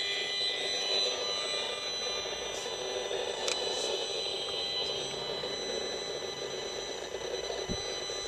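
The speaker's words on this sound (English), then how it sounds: "I'm going to turn it up the volume high so you can hear the actual acoustical representation of the frequency modulation of the cell phone tower" An acoustimeter turned up loud renders the radio-frequency signal of a residential cell phone tower as a steady, buzzing electronic drone with tonal whine, broken by a few brief clicks.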